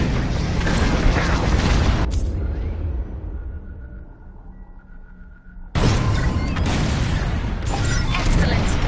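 Starfighter bombs drop and explode in the video game Star Wars: Squadrons: a loud wall of blasts, then a falling whistle and a hush of several seconds, followed by a sudden heavy burst of explosions.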